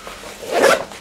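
The zipper on the outer pocket of a Helikon-Tex Essential Kit Bag is pulled open in one quick, close, crisp rasp lasting about half a second.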